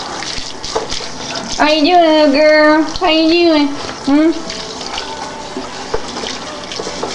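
Water splashes and runs continuously in a bath while someone speaks over it in a high, cooing voice.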